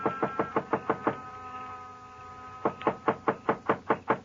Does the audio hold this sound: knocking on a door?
yes